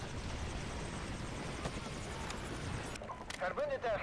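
Allied helicopter in the video game Modern Warfare 2, a steady rotor-like roar filling the mix before a brief break with gunfire-like bursts near the end, while players talk over it.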